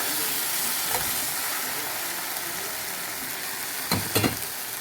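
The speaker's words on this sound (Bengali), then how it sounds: "আর এখন আমি পরিমাণ মতো ঝোল দিয়ে দেব" Water or broth hits a pan of simmering boiled potatoes, setting off a loud, close, continuous sizzle and hiss with brief bursts of bubbling near the end.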